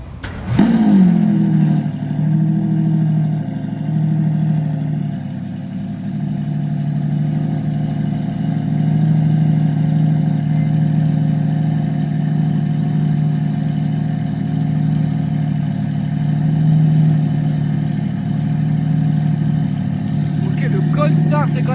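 A Lamborghini Revuelto supercar fires up with a sharp start-up burst, then settles into a steady, loud idle hum that holds for the rest of the time amid traffic, with a brief blip near the end.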